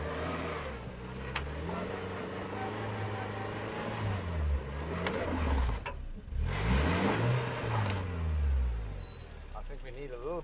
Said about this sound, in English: Let's hit 4x4 low. Okay, we're in 4x4 low range.